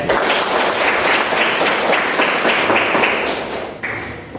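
A room full of people claps steadily for several seconds, dense and even, fading slightly at the end.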